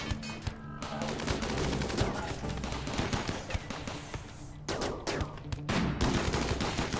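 Colonists in RimWorld exchange a sustained volley of gunfire, dense overlapping shots rattling on steadily for several seconds at a busy, constant level with no clear talk.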